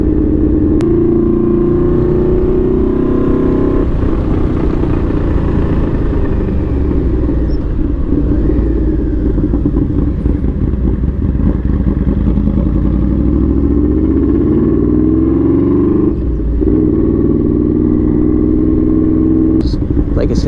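A Yamaha V-Max motorcycle engine roars close and loud, holding a heavy, rumbling idle before surging through several sharp revs that climb and fall in pitch, a continuous throaty blast with some mechanical clatter.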